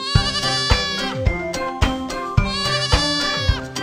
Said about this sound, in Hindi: ये भेड़ की आवाज है।